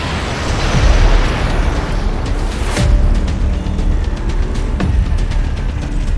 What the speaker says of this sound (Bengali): আমাদের গাড়িতে একটা আরপিজি ছিল যা দিয়ে গাড়িগুলো বুম করে দিলাম